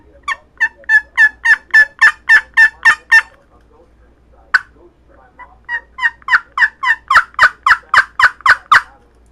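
A hand-operated turkey call plays two runs of sharp, evenly spaced yelps, loud and close, with one isolated note and a short pause between the runs.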